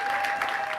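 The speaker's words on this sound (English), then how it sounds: "Let's get some applause for us in here." A short burst of crowd applause, steady clapping from many hands filling the moment with no voices on top.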